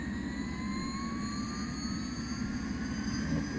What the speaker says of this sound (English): Let's see if I can do any better with this helicopter here.